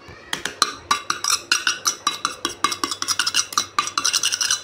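Homemade nail paint being stirred and mixed in a small container, giving a steady run of quick, close clicking and scraping taps from the mixing tool against the sides.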